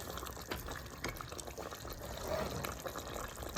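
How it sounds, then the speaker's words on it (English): Warm water poured from a container into a pot of coconut curry chicken soup, a faint continuous splashing trickle with soft clatter, recorded at low level. "We're just gonna add just a little bit more water, which is warm water."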